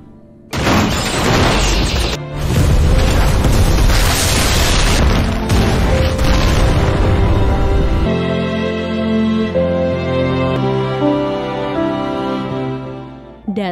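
A heavy boom erupts after a detonator button is pressed in a Korean school military drama, a loud crashing blast followed by a long rumbling decay that fades into low sustained music.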